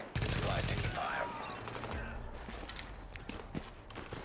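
Gunfire in The Division during a Turtle Bay mission, with a burst of rapid shots at the start and then scattered sharp reports and impacts under a steady loud battle din.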